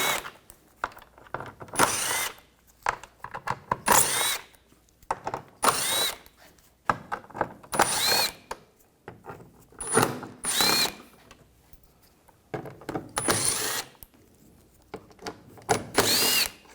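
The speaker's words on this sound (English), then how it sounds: "Underneath here, we're going to take all these screws out." Power drill fitted with a 7mm socket backing out screws beneath the front bumper of a 2013-2019 Ford Escape, in repeated short whirring bursts of a second or two, separated by pauses, close and fairly loud.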